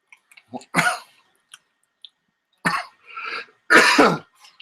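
A few harsh, separate coughs and throat-clearing bursts, close and loud, with quiet gaps between them.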